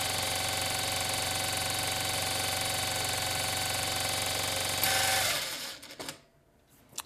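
A Vevor M2 industrial sewing machine winds a bobbin with a loud, steady, high-pitched whir at close range, then the motor spins down and stops, leaving near silence.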